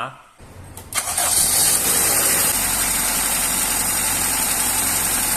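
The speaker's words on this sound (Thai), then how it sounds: "จะสังเกตเห็นว่าขณะที่เครื่องยนต์ทำงานนั้น" A healthy car engine runs with its radiator cap removed. It cranks and starts, then settles into a steady, close idle while a voice talks over it.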